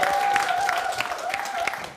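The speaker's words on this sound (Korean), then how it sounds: "여러분 박수 한번 보내주세요" Audience applause during a prize competition show, a short burst of steady clapping from a crowd with a tonal hum underneath, fading toward the end.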